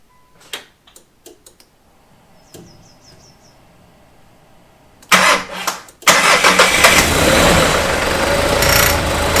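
A 26-year-old van's engine after rebuild work: a few faint ticks and clicks, a cranking attempt, then the engine catching and running loudly and steadily up close.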